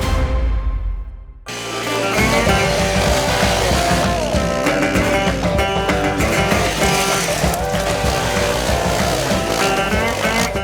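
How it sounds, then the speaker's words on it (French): A small Honda 250 single-cylinder trail bike revving hard off-road. After a brief quiet start, the engine note bursts in loud and close and keeps droning with a rough, busy roar to the end. "Là, il crache un peu plus ses tripes, le petit mono 250."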